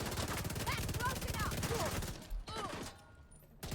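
Rapid automatic assault rifle fire in The Division 2, a fast rattling burst running continuously for about two seconds, then short follow-up bursts with voices and game sounds mixed underneath.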